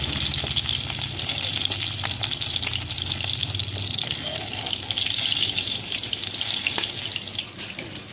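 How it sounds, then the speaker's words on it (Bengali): Fish fries in hot oil with a steady, loud hissing sizzle that carries on unbroken, no voices; the fish are live fish being fried red. "মাছগুলো লাল লাল করে ভাজা হয়ে গেছে"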